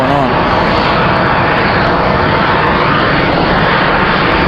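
A Southwest Airlines jet heading out on departure at Raleigh-Durham airport on a windy day produces a loud, continuous engine roar close by, dense and unbroken throughout.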